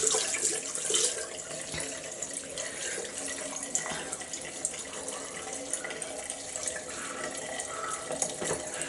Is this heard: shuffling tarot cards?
no